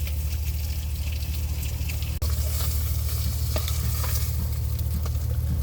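River fish frying in oil, a continuous close sizzle and crackle with a low background hum, briefly interrupted by a sharp click midway.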